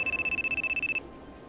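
A telephone ringing tone plays when a call is placed, sounding as a rapid, steady pulsing trill of about fifteen bursts over one second, then cutting off into quiet room noise.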